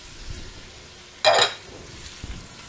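Yellow squash and zucchini tipped into a hot pan of toasting walnuts give one sharp, loud burst of sizzling frying that fades within a fraction of a second, with faint pan clinks around it.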